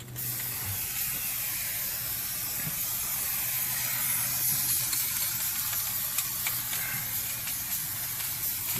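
AMSOIL brake parts cleaner hisses in a steady, close, continuous spray across the rear differential and axle of a 1959 Cadillac, a broad unbroken blast with no pauses.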